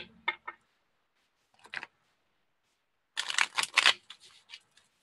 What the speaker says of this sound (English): I just have a feeling I need to shuffle these again.